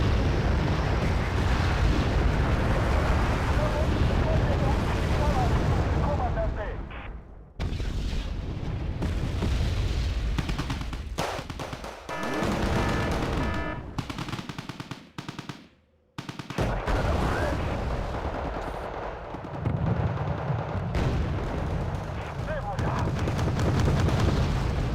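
Artillery fire in the video game Wargame: Red Dragon: loud, dense booming barrages and rumbling explosions roll almost without pause, broken by a couple of brief lulls, with voices talking over the battle.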